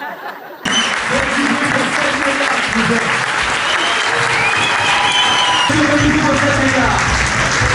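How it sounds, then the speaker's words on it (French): Loud, sustained applause from a large crowd at the Montreux Comedy Festival, steady and dense, following a brief quieter moment at the start. "faites un tonnerre d'applaudissements pour Urbain Courty"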